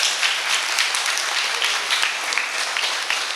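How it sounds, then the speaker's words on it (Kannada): An audience at an International Yoga Day celebration at Soukhyavana in Parika claps loudly and continuously, a thick, even roar of applause from start to finish. "ಚಪ್ಪಾಳೆ ಹೊಡೀರಿ"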